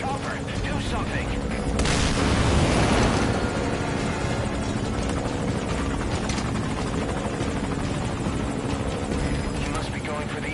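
A military helicopter in Metal Gear Solid V drones loudly and steadily with a dense rotor roar that swells briefly near the start, while game voices and distant combat sounds sit underneath.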